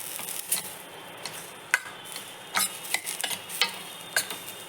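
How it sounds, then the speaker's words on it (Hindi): A spoon stirs vegetables cooking for soup in a pot, making quiet, intermittent scrapes and light clicks over a faint simmering hiss. The sound is close but soft, with no voices. "हम इसे प्रॉपर चलाते हुए बनाएंगे।"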